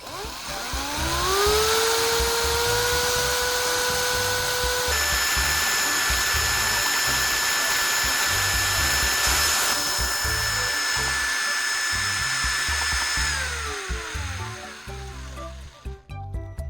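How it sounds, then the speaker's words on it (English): An electric drill on low speed spins a metal rod through a mix of silicone and thinner, its motor whining up to a steady pitch, holding a constant loud hum, then winding down near the end. "With the drill on a low speed, the rod stirs the liquids thoroughly."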